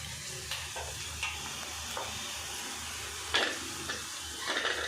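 Curry leaves fry and crackle in hot oil for a cabbage curry, with a low steady sizzle broken by sharp spits and pops, including a louder burst in the middle and a few more near the end.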